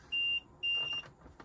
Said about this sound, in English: it will just beep and flash, just saying that your fridge isn't turned on